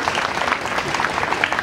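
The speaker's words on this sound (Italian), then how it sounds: "Signori, facciamo un grande applauso a Ron Moss." Audience applause for actor Ron Moss at an outdoor evening event at Villa Ciardi in Bisceglie, a steady, dense clapping from a sizable crowd that holds evenly throughout, without any voices over it.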